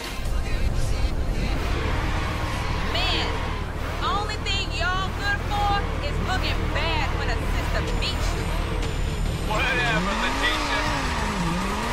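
Lamborghini race cars in the video game Midnight Club Los Angeles drone and rev continuously with tire squeals, engine whine rising and falling, while a person talks over the game audio throughout.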